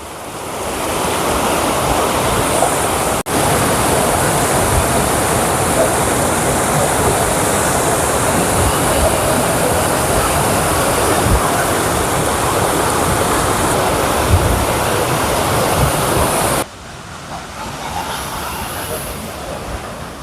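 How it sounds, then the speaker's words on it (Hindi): Fast-flowing water at a lake in northern Italy rushes in a dense, continuous roar with wind buffeting the microphone, loud and steady before dropping sharply near the end. "वापस चलते हैं क्योंकि पानी का बहाव थोड़ा और तेज हो गया है।"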